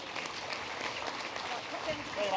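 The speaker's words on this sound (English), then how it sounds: "Give her a round of applause as we say bye" Applause from an awards-night audience at a regional sports awards ceremony, a steady dense wash of clapping that swells slightly toward the end, with a voice faintly audible over it.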